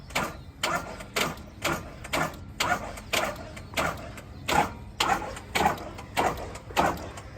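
A truck's starter cranks steadily with the key held down while the engine refuses to catch, a rhythmic series of about a dozen even, grinding pulses close by with no talking.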